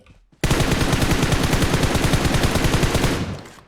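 Sustained rapid automatic gunfire in the PUBG Mobile battle royale game, a loud continuous rattle of shots lasting about three seconds after a brief quiet start.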